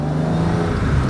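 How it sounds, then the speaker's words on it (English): A car passing close by on a road on a bank holiday afternoon, a loud steady engine and tyre rumble filling the whole moment with no speech over it. "I hope you can hear me above the traffic noise."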